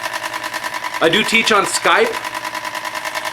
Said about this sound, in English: I'm going to walk over here and turn this fan on, but it's a bit noisy.